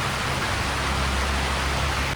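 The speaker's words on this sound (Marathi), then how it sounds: "फुल पाऊस येतोय" Dense, steady rain pours down without a break, a thick continuous hiss of heavy downpour with a low rumble underneath.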